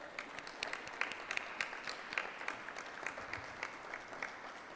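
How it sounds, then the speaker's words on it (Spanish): An audience at a panel talk on water and food sovereignty applauds participants, giving steady, fairly faint clapping that lasts throughout without voices. "agradezco un aplauso para los participantes"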